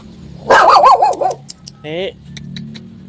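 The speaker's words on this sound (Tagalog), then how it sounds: "Aso ni PJ yan." A dog barks close by in a quick run of yaps, then a shorter bark follows after a brief pause.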